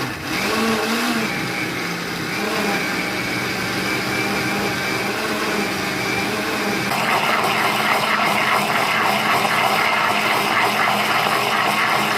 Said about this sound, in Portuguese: vou adicionar o meu açúcar aqui a essa mistura do liquidificador e volto a bater